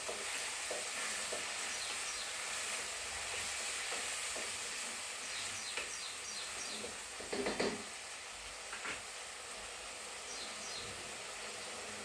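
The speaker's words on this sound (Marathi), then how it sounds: "आता गॅस परत मोठा करणार आहे आणि मसाला हा चांगला सगळा परतला गेला पाहिजे" Masala for chole sautéing in a pan over high heat, a steady broadband sizzle with occasional stirring scrapes, close and continuous throughout with no talk.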